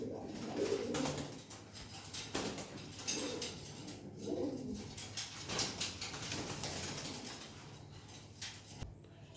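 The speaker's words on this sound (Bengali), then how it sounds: "এটা একটি মাদি মাদি কবুতর" A female Hammer pigeon coos in soft, low repeated calls nearby, with some rustling and shuffling sounds in between.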